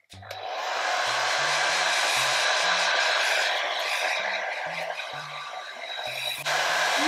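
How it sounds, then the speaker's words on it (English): A hair dryer set to cold blows with a steady, loud whooshing roar that switches on abruptly and runs continuously, dipping slightly in level before surging again. "put the hairdryer on cold."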